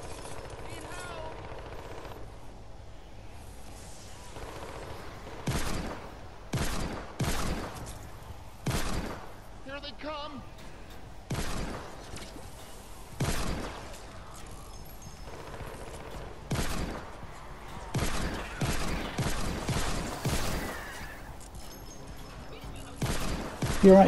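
Pistol fire in the video game Fortnite Save The World, clusters of quick gunshots in short bursts repeating across the stretch, mixed with game sounds and a voice talking over them.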